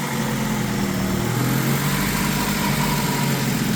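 A Honda Civic Si engine idles after an engine swap, giving a steady low hum and a smooth, continuous rumble close by with no voices over it.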